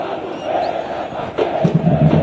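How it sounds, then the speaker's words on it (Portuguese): Football fans make noise at the Barretão stadium during an ABC match in Brazil's Série C. The crowd roars steadily and swells into louder chanting toward the end. "a torcida do ABC vai fazendo barulho no estádio Barretão"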